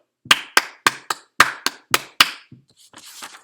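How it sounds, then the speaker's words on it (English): Hands clapping eight evenly spaced eighth notes in a music lesson: sharp, close, crisp claps in a steady rhythm over about two seconds, followed by faint breathy noise. "I'm going to clap it."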